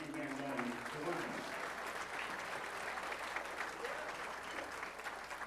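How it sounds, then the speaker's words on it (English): Audience applause in a pool hall at a US Open 9-ball championship match, steady clapping from the crowd that begins as a voice speaks over it and continues alone, moderately distant. "Give a hand, please, for Jose Parica, Shane Van Boening, to win."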